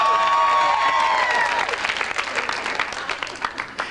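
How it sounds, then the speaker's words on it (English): Audience applause starts at a church gathering, rising as cheers and voices fade, then continuing as loose, moderately close clapping with some crowd murmur underneath. "let's have that sound check for the applause again."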